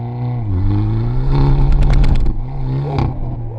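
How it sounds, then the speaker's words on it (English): A 2024 Hyundai Elantra N launching hard, its engine revving loud and close as the tires spin and the car shudders through repeated wheel hop, with a clattering burst midway. "A ton of wheel hop. Lots of wheel spin."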